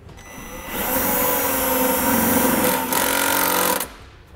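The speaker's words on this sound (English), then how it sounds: "I'm gonna take one of the provided self-tapping screws and screw it into the frame." A power driver runs a self-tapping screw into the frame of a 2007 Jeep Liberty, giving a steady, loud whirring whine for about three seconds with a brief dip near the end before it stops.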